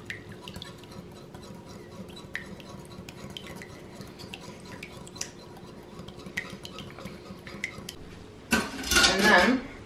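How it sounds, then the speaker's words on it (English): Eggs are whisked in a bowl for an egg wash, a fast run of light clinking taps against the sides, close and fairly quiet, before a louder clatter of dishes at the end; people talk faintly. "we're gonna whisk those up"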